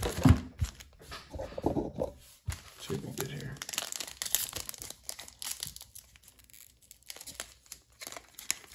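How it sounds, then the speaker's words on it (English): Trading card packs from a four-box break of Chronicles Draft Picks football cards being torn open and crinkled nearby, with rustling, tearing bursts under frequent talking. "This is a good pack opening."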